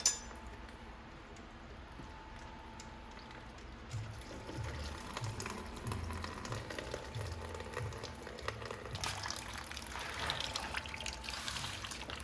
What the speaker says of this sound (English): But the next thing we're gonna do is drain the coolant.